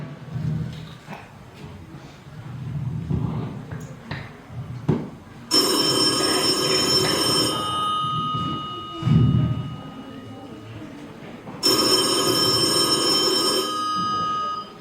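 A telephone rings in two long bursts of bright, shrill bell tones, with muffled voices and thumps in the room before and between the rings.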